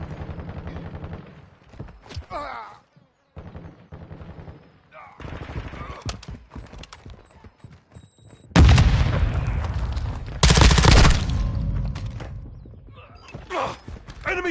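Automatic and single gunfire in Call of Duty Modern Warfare 2 multiplayer, with scattered shots early, then two dense, loud bursts of rapid firing and booms close by, with game voices heard between the shots.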